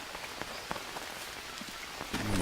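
Rain falls steadily in the jungle survival game Green Hell, a soft, even hiss of drops on surfaces with a few louder patters, faint and continuous.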